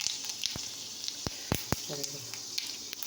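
Five-spice seeds crackling in hot oil in a home kitchen pan, a steady sizzle broken by several sharp pops and spits, with a brief clink of a utensil midway.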